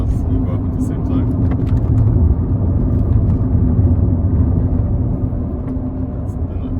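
A Rover 400 car engine drones low and steady while driving through an uphill corner, heard from inside the cabin at a constant, moderately loud level.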